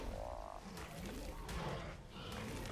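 Frog croaking in Ark: Aberration, a fairly loud, close croak with a short tonal call near the start, set against a dense ambient game soundscape.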